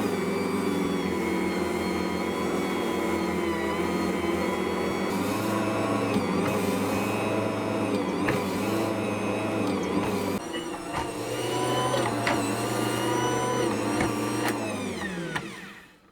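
An Ankarsrum stand mixer kneads rye bread dough with a steady mechanical whirring drone, its motor pitch wavering slightly before winding down and stopping at the end.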